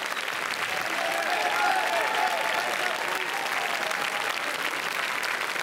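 Dense applause from a large crowd at the Cannes red carpet for the American Honey screening, steady and sustained throughout, with faint voices mixed into the wash of clapping.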